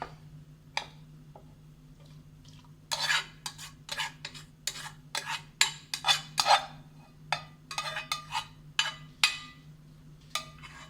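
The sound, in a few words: stirring cooked snake gourd with prawns in a pot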